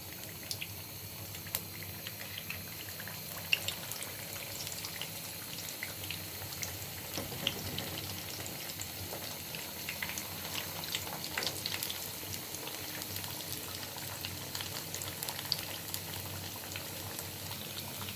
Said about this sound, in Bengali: এখন আমি বেজে নেব